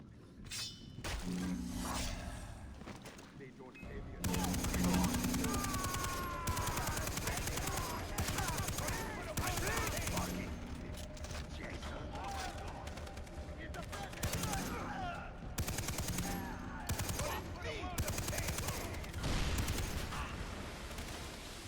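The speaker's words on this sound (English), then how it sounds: "I have a machine gun." Machine gun fire in Far Cry 3 roars in sustained rapid bursts for about twenty seconds at close range, with only brief pauses between volleys. Occasional shattering impacts and faint talk sit underneath.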